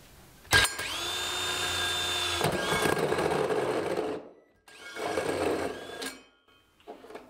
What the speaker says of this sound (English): just hold your drill pretty hard so it doesn't twist on you and break your wrist